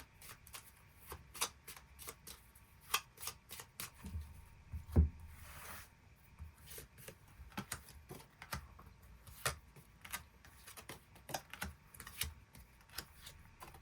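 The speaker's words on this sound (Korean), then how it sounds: "이번 분들 추가 카드로 5월 첫째 주부터 마지막 주까지 어떤 한 주 한 주를 보내게 될지 추가 카드 뽑아보도록 하겠습니다" Tarot cards are shuffled and drawn, with a long series of soft, quick card flicks and slaps at close range against a quiet room and no talking.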